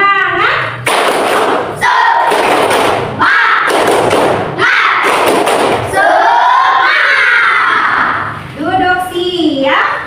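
A school class performs a rhythmic spirit clap, a patterned sequence of loud claps and thumps in bursts with children's voices chanting along, followed by a teacher speaking.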